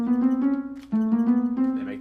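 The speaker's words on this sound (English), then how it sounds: "They make the harp sound." Minecraft note block playing the harp sound on silverfish stone, a sustained plucked tone repeated twice with a short gap, close and moderately loud.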